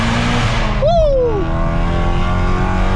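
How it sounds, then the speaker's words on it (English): A BMW M5 V8 revs sharply once in a short, loud rising-then-falling burst, close by over a constant engine drone. "Oh, listen to that V8."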